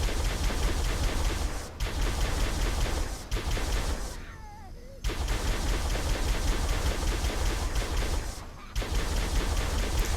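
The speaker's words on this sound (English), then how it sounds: "We got a turret, let's try to use it." Sustained, loud automatic fire from a mounted turret in Halo: Combat Evolved Anniversary, continuous bursts broken by two short pauses, with no voices over it.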